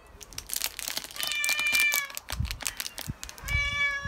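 Rural cats quarrel with drawn-out, rising and falling meows and yowls, loud and close, overlapping in tense exchanges with a few soft rustles.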